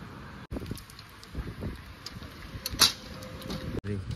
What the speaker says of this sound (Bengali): আর বৃষ্টি মোটামুটি শুরু হয়ে গেছে,